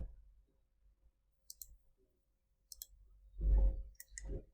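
Computer mouse buttons clicked during software work, a few sharp, close clicks spaced out over a quiet room, with a low thump of handling near the end.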